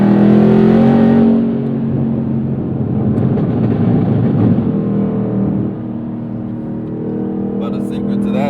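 A Chevrolet Camaro exhaust revs loudly nearby, a deep rumbling drone that swells and eases back as the throttle is worked, with rough crackling texture as it settles.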